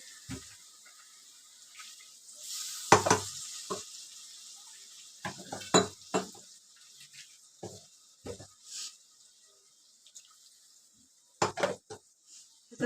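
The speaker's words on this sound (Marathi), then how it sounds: "मिक्सरच्या भांड्यामध्ये पाणी टाकायचं आणि सगळे धुवून घ्यायचं" Water swirls and sloshes in a mixer grinder jar during Marathi home cooking, with several brief splashes and knocks of the jar against the sink, scattered across a quiet background.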